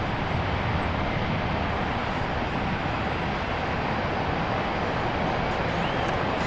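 An airliner going around on approach to runway 31 right at Dallas Love Field, climbing away as a loud, steady, broadband jet roar that fills the whole stretch without easing.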